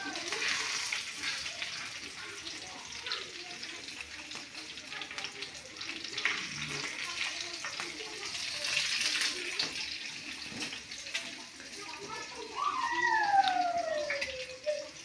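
Fish frying in hot oil in a home kitchen, a steady soft sizzle running throughout under a voice talking, with faint clinks and scraping near the end.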